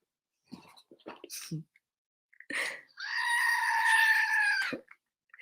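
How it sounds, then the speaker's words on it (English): A screaming goat toy drops and lets out its long, loud bleating scream, preceded by a few brief clatters and rustles in an otherwise quiet room. "Ooh, my screaming goat just fell."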